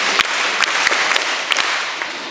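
An audience claps for itself at a peace campaign event, scattered hand claps standing out over a dense background of applause and crowd noise, with no speech.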